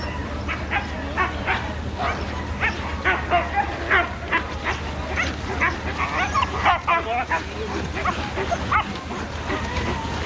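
Team of sled dogs at the start line of the Gunflint Mail Run sled dog race, yipping, barking and whining in a dense, continuous chorus, with people talking in the background throughout.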